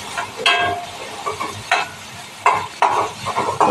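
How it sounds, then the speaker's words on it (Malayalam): Sliced onions sauté in a hot pan for a green peas thoran, sizzling steadily while a spoon scrapes and stirs in irregular bursts, close and clear with no talk. "ഇപ്പോൾ 2 സബോള ഉണ്ടാകും, നന്നായി വഴറ്റിയെടുക്കുക"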